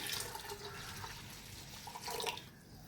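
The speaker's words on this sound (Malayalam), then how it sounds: "എന്നിട്ട് വെള്ളം ഇങ്ങനെ ഒഴിക്കുക." Water poured into a pot of rice for coconut rice, a faint, soft trickle and splash that carries on steadily and grows a little fuller near the end.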